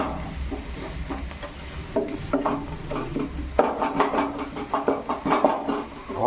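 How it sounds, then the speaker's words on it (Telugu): A spoon scrapes and clinks in a pan while masala and onions are stirred for a Telangana-style fish and tomato curry, giving irregular close knocks and scrapes over a soft sizzle. "ఆనియన్స్కి ఈ మసాలా అనేది కలిసేలా కలపండి 1 నిమిషం"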